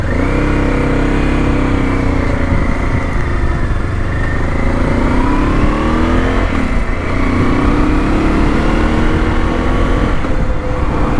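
A Honda Transalp motorcycle with revised cylinders and heads and new tires is ridden, its engine droning steadily and loudly throughout with gentle rises and falls in pitch and no voices.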